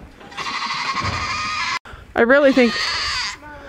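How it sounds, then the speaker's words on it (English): A goat gives a harsh, wavering bleat close by on a farm, a strained, ugly-sounding call that rises over a buzzy background, with someone talking just before it. "that's the worst sounding goat"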